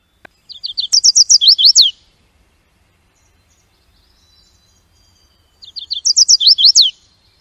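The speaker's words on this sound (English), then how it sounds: "have a very polite little song that says, "Very, very pleased to meet you."" Chestnut-sided warbler song from the Chippewa Valley: two bright, high phrases of quick rising chirps ending in an emphatic downslurred note, separated by a few seconds of quiet, clear and fairly close.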